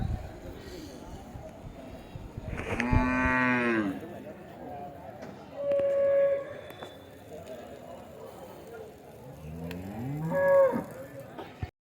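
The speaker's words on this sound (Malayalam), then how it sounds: "ഒരു വടക്കൻ മട്ടക്കാളയാണ്. മട്ടക്കൊമ്പുള്ള കാള." A Vadakkan Matta bull lows loudly in long drawn-out moos at the Vaniyamkulam cattle market, three calls spaced several seconds apart, close by with faint background noise.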